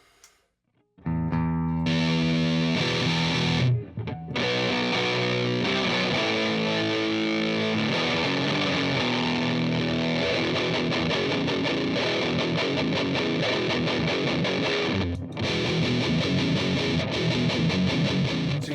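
Electric guitar played through a DigiTech Gunslinger distortion pedal into an amp, with tone adjusted for more highs and fewer lows; a loud, sustained stream of thick distorted chords and riffs runs throughout after a brief silent start, with a short break near four seconds.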